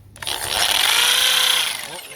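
Hammer drill running steadily for about two seconds during front gate post replacement in a garden, a loud close whining buzz that starts abruptly and tapers slightly at the end.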